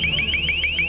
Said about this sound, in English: the LRAD, Long-Range Acoustic Device, a device that emits high-frequency loud noises